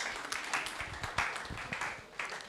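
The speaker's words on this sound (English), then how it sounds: "Oh, let's clap for him then." Applause at a stakeholder forum for a guest invited to lead a Muslim prayer, several sharp individual claps over a steady background of clapping from a modest crowd.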